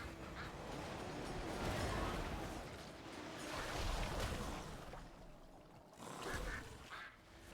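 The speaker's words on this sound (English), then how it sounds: "Pissed off a duck." Angry duck in a fantasy role-playing video game, giving repeated raspy quacks and honks over several seconds amid a dense, noisy game soundscape, fairly close with no talk.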